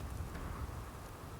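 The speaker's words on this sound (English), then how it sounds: "It is a rainy day today." Rain falls steadily in the video game Starfield, a soft, continuous wash of patter at low volume with no voices over it.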